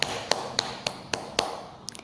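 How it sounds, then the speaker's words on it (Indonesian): Six sharp, evenly spaced taps land about every quarter second, each struck firmly with five fingers as a strong beat, close and crisp and followed by a couple of lighter taps, with no voice. "ini adalah ketukan kuat 5 jari"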